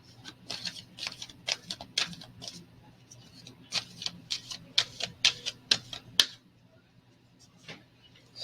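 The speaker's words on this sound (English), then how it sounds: "Let's pull two oracle cards," Oracle cards being shuffled, a rapid run of soft papery flicks and taps in uneven bursts, close by, that stops abruptly and leaves a faint low hum.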